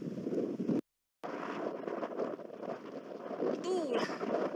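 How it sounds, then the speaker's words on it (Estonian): Strong wind buffets the microphone on an open fell in Finland while hiking, a loud continuous rushing roar with a brief dropout, and someone talks over it. "Tuul on olnud meeletult tugev."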